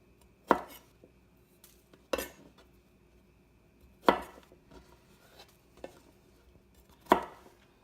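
A knife trims the ends off garlic cloves on a cutting board, with five or six sharp separate chops spaced a second or two apart, close and clear in a quiet kitchen.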